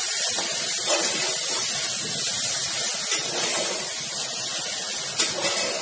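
Grated carrots sautéing in a pan for gajar halwa give a steady, close hiss and sizzle with soft scraping flickers, with no talk over it.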